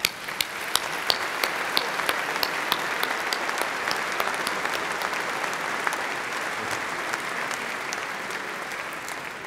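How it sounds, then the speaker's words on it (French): Sustained applause from a conference audience at a business clubs' convention plenary session in Lille, a dense, even wash of many hands clapping with a few sharper nearby claps standing out, steady for the whole stretch. "Je vous demande d'applaudir Oussama Ammar"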